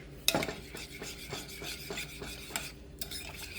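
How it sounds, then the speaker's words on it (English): Spoon stirring brown sugar into a meatloaf topping in a bowl, faint rhythmic scraping and rubbing strokes close by with a sharper clink near the start. "Then we'll give it a stir."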